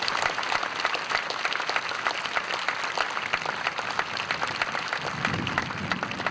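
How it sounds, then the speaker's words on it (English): Sustained applause from a crowd in the stands at an outdoor memorial, dense and steady clapping at moderate distance lasting several seconds without letting up. "let's give them a round of applause"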